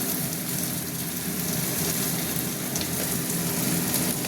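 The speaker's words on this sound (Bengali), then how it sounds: "ওটা ভাজা ভাজা হতে থাক" Ginger-garlic paste with chilli powder fries in a pan for a chicken curry, giving a steady, dense, close sizzle that keeps an even level throughout, with no voices.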